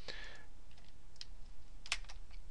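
Computer keyboard keys pressed for a shortcut, a few sharp close clicks, one near the start and a couple of taps later, over a quiet room.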